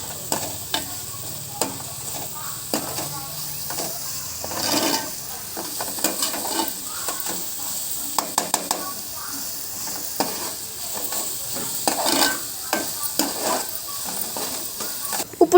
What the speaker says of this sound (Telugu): ఇప్పుడు దీన్ని బాగా మిక్స్ చేద్దాం